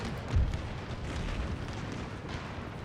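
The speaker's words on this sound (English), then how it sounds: "Fantastic shots from the cannon" Cannons fire in an Empire: Total War land battle with Austrian forces, heard as a faint, distant low boom early on, followed by a steady rumbling battlefield din.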